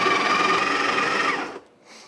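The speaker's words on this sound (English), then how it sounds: "with this grinder, you can adjust the grind size, you can adjust the time that it takes to grind" An electric burr-style coffee grinder runs steadily, grinding a double dose of beans coarse for cold brew, a dense loud whir that holds for about a second and a half before cutting off and spinning down.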